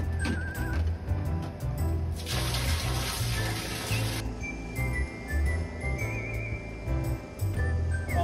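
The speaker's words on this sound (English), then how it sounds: "Uh-oh, water spraying." Water sprays in a steady hiss from a leaking hose fitting aboard a sailboat, close and continuous with a brief louder burst partway through, over a low background rumble.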